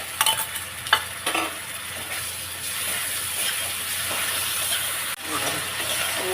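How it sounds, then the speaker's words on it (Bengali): A spice paste of turmeric, salt, ginger, cumin and chilli sizzles in hot oil while it is stirred, with a few sharp scrapes at the start and then a constant, moderately loud frying hiss. "মশলা কষা চলছে"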